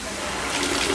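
Hot water gushes hard from a tap into a goemon-style iron bathtub at a Kanchanaburi hot spring, a loud, broad, continuous splashing rush that holds steady for the full second.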